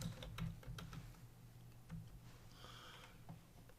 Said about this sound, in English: You'll notice when I go to start typing